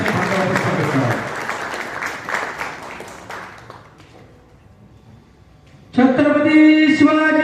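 An audience at a Marathi business-funding event applauds a speaker with dense, steady clapping for about four seconds, then it fades to near quiet before loud music begins.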